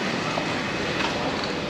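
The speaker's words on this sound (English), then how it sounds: "Right, we're going on board the train." Train in Kochi, Kerala, a steady loud rumbling roar of the moving railway cars, continuous and close, with no voices.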